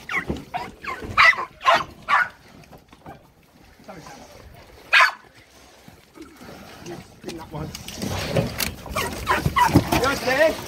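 Terrier dogs on a farm while hunting rats, with several loud, sharp barks near the start and another partway through, then rustling and scuffling. People talk in the background.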